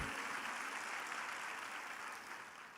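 A church congregation applauds in a steady, fairly quiet wash of clapping heard at a distance, fading slightly near the end.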